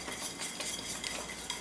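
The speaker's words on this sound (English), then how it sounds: "Take it off the heat" A spoon stirs penuche fudge in a pot just taken off the heat, giving soft, steady scraping and swishing with faint clinks, close and continuous with no talking.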